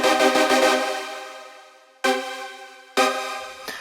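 Synthesized chords in a trance production, voiced as a standard closed chord: sustained harmonic stabs, one long held chord that decays, then two shorter chord hits in succession, alone with no talk.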